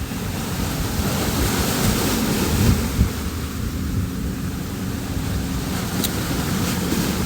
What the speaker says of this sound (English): those are the crashing waves that you hear.